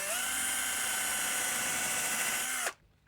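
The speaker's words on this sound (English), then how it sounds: "I'm just going to pre-drill a hole" A power drill bores a pilot hole into the wooden side of a treasure chest, one loud steady high whine held for under three seconds before cutting off abruptly.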